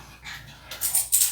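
A small pet dog whimpering at close range, thin high whines rising in short bursts that grow louder toward the end, with a faint low background hum.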